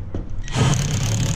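A power driver whirs up and keeps turning after a brief quieter lead-in as screws go in to mount a replacement ECM blower motor and wheel, a loud, close, steady motor drone.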